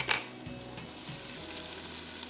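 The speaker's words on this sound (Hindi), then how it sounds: "और इसमें हम चॉप्स डाल देंगे" Spicy roast chops land in a hot pan with chopped ginger and garlic, opening with a sharp metallic clink and then settling into a steady, soft sizzle with faint stirring, and no talk.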